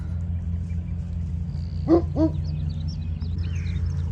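Dogs in a ranch pasture give two short barks in quick succession, mid-distance over a steady low hum of background noise, with faint bird chirps after.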